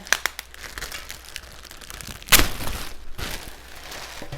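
Someone opening the tape on a cardboard box holding a 21-litre Presto pressure canner: close crinkling and crackling of tape and cardboard, with a sharp tearing rip midway followed by more rustling.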